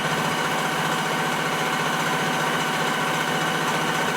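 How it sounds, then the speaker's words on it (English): A Bridgeport milling machine taking a finish cut produces a steady, continuous broadband motor hum and cutting hiss at close range, unchanging throughout with no talking. "I'm gonna come in here and take a finish cut."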